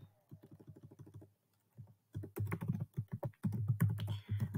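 Close, rapid keystrokes on a computer keyboard come in quick bursts separated by short pauses as an email address is typed, with no voice.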